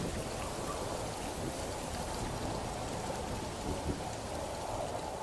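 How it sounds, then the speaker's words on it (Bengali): Heavy rain and storm as an audio-story effect: a dense, steady roar of downpour spreads across the whole clip, with a low, rumbling undertone suggesting distant thunder and no voices. "তুমুল ঝড় বৃষ্টি শুরু হয়ে গেছে।"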